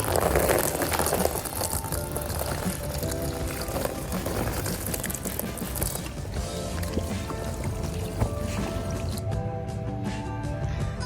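Water washing over a filthy 1993 Yamaha Banshee ATV with cracked plastics, a steady splashing and dripping wash that runs continuously and fairly loud, with music-like tonal layers underneath and no speech.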